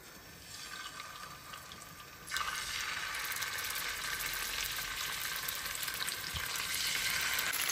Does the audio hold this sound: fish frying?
yes